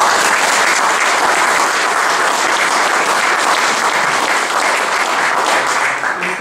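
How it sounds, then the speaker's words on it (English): Sustained audience applause fills a lecture hall at a management consultants' dinner event, dense and steady clapping from a large crowd that fades slightly at the end. "So I think we owe a real round of applause to Conrad and the team."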